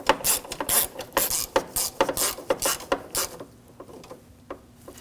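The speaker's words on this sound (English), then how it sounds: "Now they're all in, we can tighten these down." A ratchet tightening water pump bolts on a 2007-2013 BMW 328i with the 3.0L inline-six, a close, steady run of rapid clicking strokes that slows and fades to a few sparse clicks at the end.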